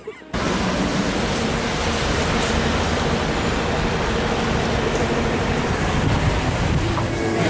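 Strong wind buffeting a microphone outdoors on a London street, a loud, steady roaring rush that starts abruptly and continues unbroken, close and dominant.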